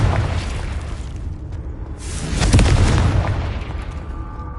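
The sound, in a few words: Confringo fire blast spell exploding in video game Hogwarts Legacy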